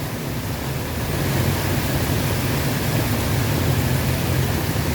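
Heavy rain falls steadily and loudly as a dense, unbroken wash of noise, close and continuous with no talk over it.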